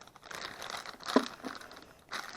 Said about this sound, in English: Okay, let's open this bag.